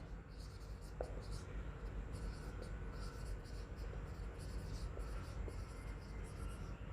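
Chalk or marker scratching and tapping on a board during a lecture: close, steady, with short strokes and taps across the whole stretch over a faint room hum.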